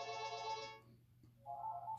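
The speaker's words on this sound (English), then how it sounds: "sorry about the phone ringing there in the background." A telephone ringtone plays in the background, a bright melodic burst that stops briefly and then resumes, faint and alone.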